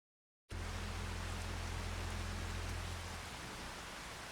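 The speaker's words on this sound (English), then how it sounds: "There we go. Look at the rain." Steady rain in a farming video game hisses as an even, dense wash after a sudden start, with a low hum beneath that drops away near the end.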